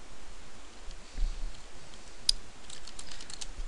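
Quiet typing on a computer keyboard while plotting signals in MATLAB, a faint run of soft key clicks that bunches into a quick burst toward the end, with no one speaking.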